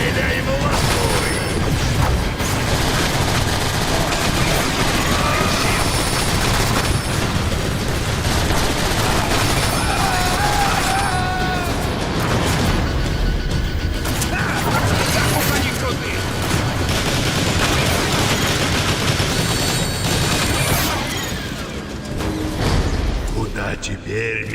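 A Transformers film battle scene fills with sustained gunfire, crashes and mechanical clatter, loud and dense throughout, with voices shouting over the din.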